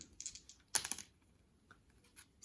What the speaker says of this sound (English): So we'll roll the 2 dice here